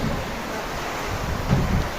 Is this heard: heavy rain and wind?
yes